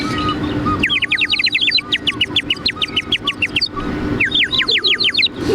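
Bright, rapid chirping whistles in quick bursts, like a toy bird whistle imitating live birdsong, loud and close with short pauses between runs.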